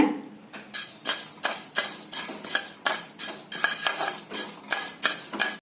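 Cardamom pods being dry roasted and stirred in a hot pan, giving a steady run of close metallic scrapes and clinks of a spoon against the pan in a regular rhythm.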